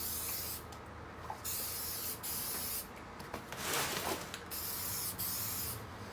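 Spray paint hissing onto a Mercedes Sprinter steering wheel in short repeated bursts, a close, steady airy hiss broken by brief gaps between passes.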